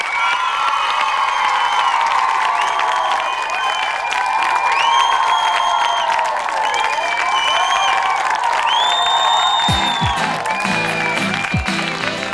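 Audience applauds and cheers for a singer at a live concert, a loud dense crowd with whoops and high shouts throughout, and a few sharp thumps near the end.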